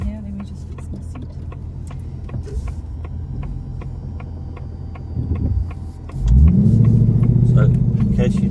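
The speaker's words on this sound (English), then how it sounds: "we are driving the all-new Mustang" Engine of a Ford Mustang Dark Horse idles and rumbles from inside the cabin with steady ticking, then swells into a louder, deeper drone as it pulls away; a person talks over it.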